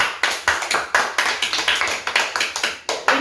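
Clapping on a comedic game show spoof, sharp repeated bursts of hand claps at a quick uneven rhythm, close and fairly loud with little else around them.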